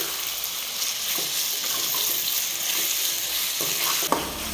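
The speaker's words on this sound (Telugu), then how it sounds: "ఇందులో 4 పెద్ద సైజు టమాటాలని కట్ చేసి వేస్తున్నాను. టమాటాలు వేసాక ఒక 5 నిమిషాల పాటు హై ఫ్లేమ్లో మగ్గించుకోవాలి." Chopped tomatoes sizzling and frying in a pan over high flame for an egg curry, with a steady hiss and occasional stirring scrapes, close and continuous without talking.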